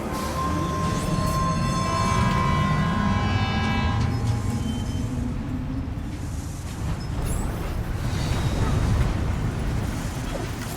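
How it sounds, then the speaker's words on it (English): A monorail bound for West Fort Knot station pulls away in the video game Death Stranding 2. A tonal horn-like call sounds over the first few seconds, then a loud, steady rail rumble continues alone throughout. "The monorail bound for West Fort Knot station has been sent on its way."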